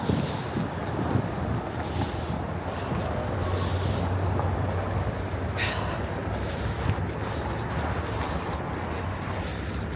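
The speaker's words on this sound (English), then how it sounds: "the wind." Strong, steady wind roars and buffets the microphone on a New York City bridge on a cold morning, a continuous low rumble with no breaks and faint distant noise beneath.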